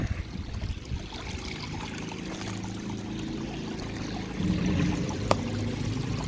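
Water trickles and flows steadily through rocks in a garden pond waterfall with a leak, a continuous close wash of streaming water with no voices.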